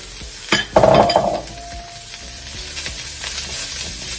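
Carrots sizzle steadily in hot oil after a clatter as they are dropped into the pan, with a utensil scraping and stirring early on.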